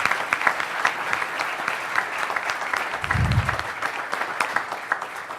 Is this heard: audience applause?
yes